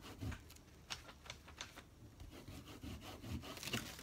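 Something rubs over a wooden surface in a series of soft, scratchy strokes with an uneven rhythm, close and fairly quiet.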